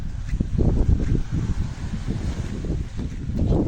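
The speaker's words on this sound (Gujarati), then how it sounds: "મસ્ત જો ઠંડો ઠંડો પવન આવે છે." Steady wind gusting across the microphone, a low rumbling roar that swells and eases without pause, with no voices.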